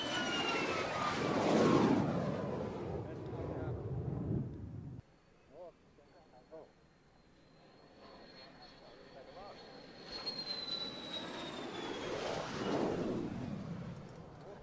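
An F-16 fighter jet flies by, playing back from a recording: two loud roaring swells with sweeping whine, a quieter stretch between them where a voice talks over faint engine hiss.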